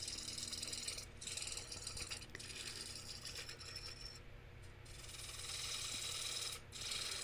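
Woodturning lathe cutting a hickory salad bowl, a continuous close scraping and hissing of the tool on spinning wood with brief breaks as the cut lifts, fairly faint and steady, no talking.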